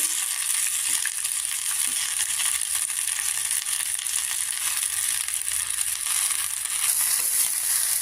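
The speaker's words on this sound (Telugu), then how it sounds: "ఇది పచ్చివాసన పోయేదాకా ఫ్రై చేసుకోవాలి." Fresh mint leaves and green chillies fry in oil in a pan for a coconut-mint chutney, giving a dense, steady, close sizzle with faint crackling throughout and no voices.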